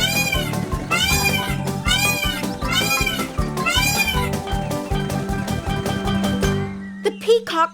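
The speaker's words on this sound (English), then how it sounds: "Those jungle cats are too close." Cartoon jungle cats meow and yowl in repeated rising-falling calls over busy music, several close, loud cries one after another before the sound drops out near the end.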